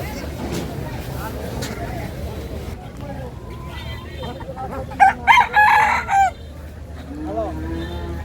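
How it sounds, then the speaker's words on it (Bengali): Chickens at a village market crow and cluck, with a loud rooster call bursting out midway over a bustling background of people talking and market noise. "তো এখানে মুরগি আছে"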